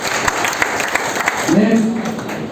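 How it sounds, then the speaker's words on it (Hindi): Audience at a marketing product presentation claps in a steady burst of applause, loud and close, with a voice speaking over it partway through. "ताली होनी चाहिए।"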